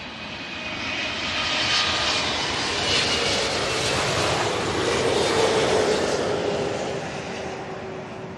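A jet airliner roars past at London Heathrow Airport, its engine noise swelling from a distance to a loud, broad roar at its peak and then fading as the aircraft moves away.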